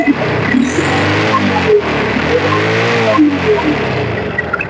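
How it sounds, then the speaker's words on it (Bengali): A Bajaj 100cc motorcycle engine, a Boxer or Champion model, idles and revs close by, its loud, uneven putter rising and falling in pitch in a few short surges. "এই যে দেখেন গাড়ি স্টার্ট হয়ে গেছে"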